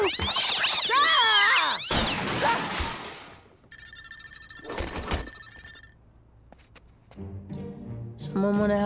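Cartoon cat meowing and yowling loudly in an animated scene, with a clattering crash and other cartoon sound effects after it.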